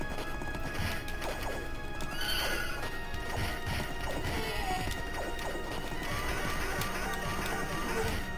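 A horse neighs in the arcade video game Knights of the Round over busy game audio of clattering hooves, clashing hits and crashes, with the whinny standing out loud in the middle.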